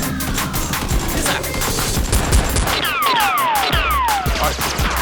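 Toy Nerf blasters fire in a backyard Nerf war, a dense, continuous volley of sharp pops and clatter with some descending whistling sweeps near the end, loud throughout.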